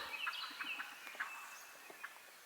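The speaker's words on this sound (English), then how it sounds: "Look at all them birds." Wild turkeys gobbling on a Kentucky opening-day spring hunt, repeated rattling gobbles from several birds at moderate distance, overlapping in quick bursts with no talk.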